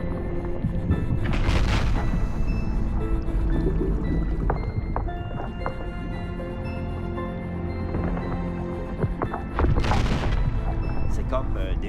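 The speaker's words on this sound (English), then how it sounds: "The icebergs around us creak and rumble," Icebergs creak and rumble like thunder, with a constant deep groaning, drawn-out creaking tones, and two loud, thunderous booming cracks, one near the start and one near the end.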